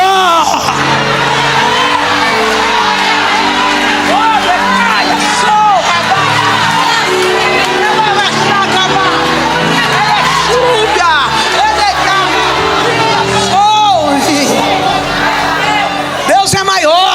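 A church congregation shouts together at an evangelical worship service, a loud, dense mass of raised voices with whoops and cries that sustains throughout, with a preacher's voice mixed in.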